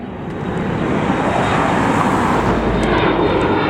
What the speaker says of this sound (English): There's an airplane taking off.